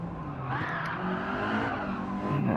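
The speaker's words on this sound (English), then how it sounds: "I had to use a handbrake there." Tyres skid as a front-wheel-drive Honda DC2 Integra Type R is flung into a handbrake turn in the Gran Turismo racing game, a steady loud engine drone with squealing rubber running throughout.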